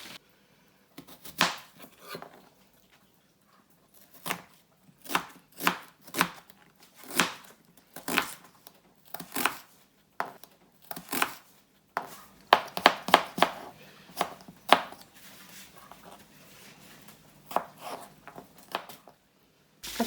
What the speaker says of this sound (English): I've got 1 onion and 1 garlic, which I'm just going to peel and cut.